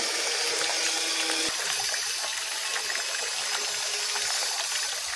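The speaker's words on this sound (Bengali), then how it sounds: "আজকে একটু ভালো করে ফ্রেশ করে স্নান করে নিচ্ছি ঘন্টুবাবু এবং গুড বয়" Running water splashing steadily while a pet dog is bathed, a continuous close hiss with small clicks and drips, no talking.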